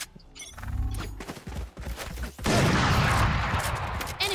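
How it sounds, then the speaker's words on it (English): Weapon reload in the tactical shooter Valorant, a quick sequence of metallic clicks and clacks from the magazine and action, followed by a loud burst of gunfire and noisy game action. "Reloading."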